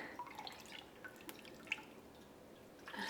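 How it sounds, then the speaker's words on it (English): Elderflower cordial mixture ladled into a sieve drips softly, with a few small, scattered liquid drops and trickles over a faint background. "So I'm just going to ladle the mixture into this sieve"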